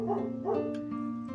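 A dog barks repeatedly in short, tense yaps and whimpering bursts at moderate volume, with no other sounds around it.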